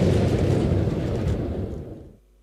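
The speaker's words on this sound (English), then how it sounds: "The fireworks from Nagaoka erupted in the night sky." Nagaoka fireworks burst over Pearl Harbor at night, a deep rumbling boom that rolls on loudly for about two seconds and then cuts off abruptly.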